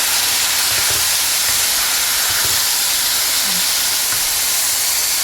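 Thinly cut strips of beef dropped into very hot oil for beef lo mein, a loud, dense, steady hiss of sizzling close by with faint stirring knocks.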